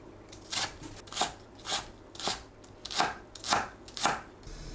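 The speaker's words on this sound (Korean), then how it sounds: "파를 작게 썰어줍니다." A knife chops green onion on a cutting board in a home kitchen, seven crisp evenly spaced strikes close up with no talking.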